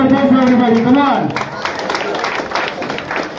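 At a poster launch for the Chhattisgarhi film Jhan Jabe Pardes, a voice speaks briefly, then an audience breaks into loud, sustained clapping that fills the rest of the moment.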